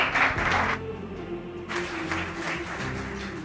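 Audience applause at a school ceremony: a dense burst of clapping, a brief lull, then a longer sustained round, with a steady background hum underneath.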